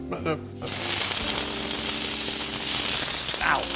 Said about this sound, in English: drop them on their head into the frying pan